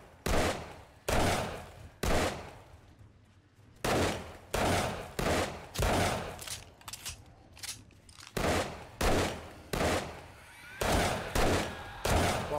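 Bursts of gunfire in the survival video game 7 Days to Die, shots aimed at a zombie, with repeated loud volleys separated by short pauses and no voices.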